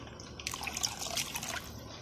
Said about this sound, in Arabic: شويه ميه صغيرين